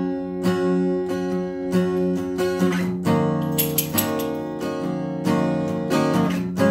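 Acoustic guitar playing the intro of a worship song with strummed power chords, steady rhythmic strums ringing out clearly and close with no voice over them.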